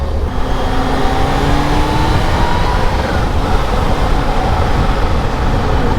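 Kawasaki Z H2 motorcycle engine getting light throttle in slow traffic, a steady loud drone with a gentle rising tone, continuous wind and road roar throughout.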